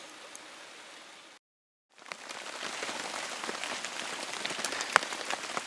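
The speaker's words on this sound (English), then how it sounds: "We got caught in the pouring rain" Rain pours steadily on a canoe trip in Algonquin Park, a dense even hiss of drops on surfaces that cuts out briefly, then returns heavier and close with scattered louder taps.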